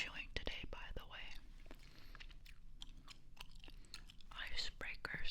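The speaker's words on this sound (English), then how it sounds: "Here's gum I'm chewing today, by the way." Ice Breakers Ice Cubes gum chewed close to the microphone, with wet smacks and sharp crisp clicks coming in uneven bursts over a soft, quiet background.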